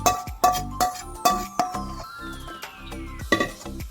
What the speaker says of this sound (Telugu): ఇప్పుడు స్టవ్ ఆఫ్ చేసుకొని ఈ పోపుని అటుకుల మిశ్రమంలో వేసుకోవాలి